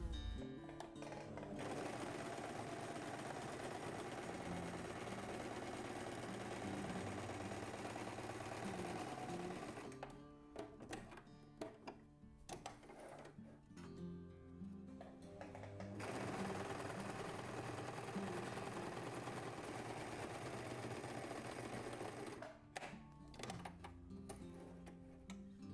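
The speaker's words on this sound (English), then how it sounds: "So I'm going to start by sewing these wedges and sewing it right sides together, and then open it and top stitching it." Sewing machine stitching the seams of a wedge cushion, a steady close mechanical whirring chatter running in long stretches with two brief pauses between runs.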